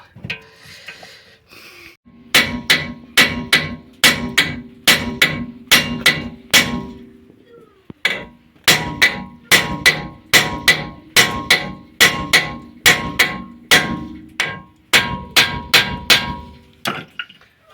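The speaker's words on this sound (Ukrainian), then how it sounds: "б'ємо по цих вухах, питаємося прокрутити" A hammer strikes the ears of a front wheel hub on an Audi A6 during a wheel bearing replacement, delivering two long series of sharp, ringing metallic blows in steady rhythm with a brief pause between them, close and loud.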